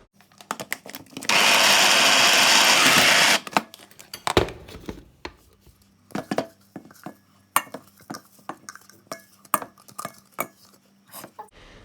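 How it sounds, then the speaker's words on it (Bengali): An electric blender grinds soaked soybeans for about two seconds in a loud steady whir, then stops, followed by scattered clinks and knocks of the jar and utensils. "এখন আমি ব্লেন্ডারে আমি ব্লেন্ড করে নেব এটাকে"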